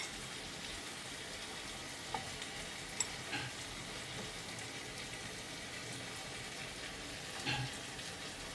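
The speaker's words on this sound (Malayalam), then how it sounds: "നല്ല ചൂടായ എണ്ണയിലേക്ക് ഇട്ട് കൊടുക്കുക." Potato paneer snacks fry in hot oil with a faint, steady sizzle and crackle that runs unbroken, with a few small pops, and no voices.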